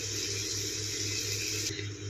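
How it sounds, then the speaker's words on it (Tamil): Boiled mutton and its cooking water are poured into a pot of biryani masala, producing a continuous close rushing, sloshing pour that trails off at the end. "இந்த டைமில் நம்ம வேக வச்ச மட்டனை தண்ணியோடு சேர்த்துக்கலாம்"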